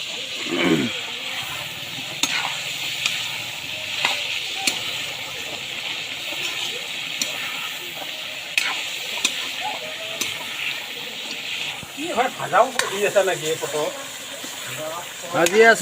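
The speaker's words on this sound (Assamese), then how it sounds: "ভাজি আছোঁ ফ্ৰাই কৰি আছোঁ হাঁহৰ মাংস" Steady sizzling and crackling of duck meat frying in a hot wok, with occasional clinks and a voice talking briefly near the end.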